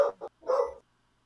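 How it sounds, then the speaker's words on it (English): A dog gives a quick pair of sharp barks followed by a third longer bark, heard from a little distance in an indoor room, then silence. "My dog's barking at stuff."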